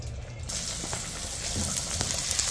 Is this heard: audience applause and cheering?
no